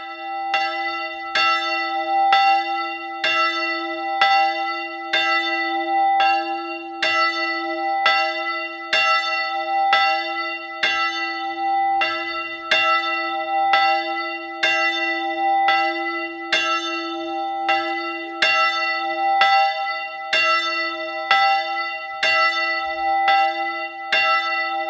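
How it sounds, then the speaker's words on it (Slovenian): Church bells ring out from a bell tower at a newly blessed church in Ormož, Slovenia, with rhythmic, evenly spaced strokes over a sustained humming resonance, loud and continuous without any voices. "se je iz zvonika prvič zaslišalo tudi zvonjenje"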